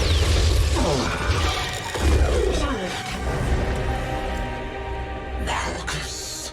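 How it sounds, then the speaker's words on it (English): Machine being smashed in a Star Wars: The Old Republic cinematic trailer, loud clattering metallic crashes and mechanical grinding with whooshing sweeps layered over a dense score. "Destroy this machine and all records of it"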